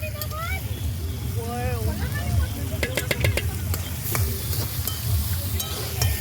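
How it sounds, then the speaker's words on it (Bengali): Fried rice stir-fried at an outdoor picnic gives a steady crackling sizzle with scraping stirs, while voices talk nearby and wind rumbles over the microphone. "ফ্রাইড রাইস বানাচ্ছি এখন, দেখুন"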